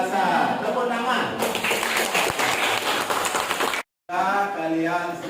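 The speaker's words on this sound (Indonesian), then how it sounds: "Tepuk tangan." Students in a classroom break into applause, dense rapid clapping from many hands filling the room for a couple of seconds, with talk before and after.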